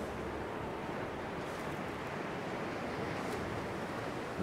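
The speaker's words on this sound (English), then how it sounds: "It's too windy right now" Steady wind blows across a snowy wilderness in the survival video game The Long Dark, a constant, full-bodied rushing roar with a slight gusting swell, heard alone without any voices.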